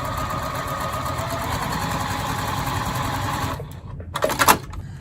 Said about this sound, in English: trim this and sew on the line on the back.